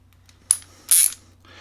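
A ratchet wrench working a bolt on a 2018 Aprilia Tuono Factory motorcycle, heard as two short close metallic clicking bursts separated by a brief pause.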